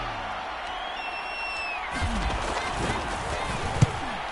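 Stadium crowd roar from a PS4 football video game, a steady dense wash of distant voices that swells slightly partway through, with a single sharp thump near the end.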